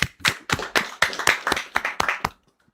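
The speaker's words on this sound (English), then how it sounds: "So a round of applause because our Gen Zs are in the house." An audience in a talk-show studio clapping to welcome Gen Z guests, a short burst of irregular claps from a small group, close and fairly loud, ending after a couple of seconds.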